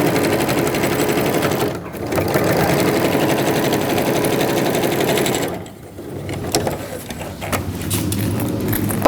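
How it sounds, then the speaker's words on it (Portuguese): A sewing machine runs loud and close, stitching clear plastic on an organizer pouch in long continuous bursts that briefly slow near the start and again midway. "eu vou passar uma costura aqui nas pontas, para eu poder tirar um pouco desses alfinetes"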